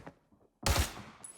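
Sniper fire in the video game Arena Breakout: one loud, sharp rifle crack after a short silence, followed by a rumbling tail that fades and a high ringing tone near the end.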